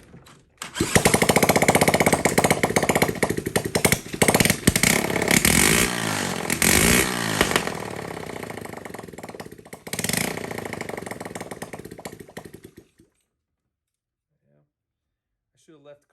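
A Chinese clone small engine with simple wiring roars and sputters unevenly for about twelve seconds, loud and close with its idle set very low, then cuts out into near silence with a faint sound at the end.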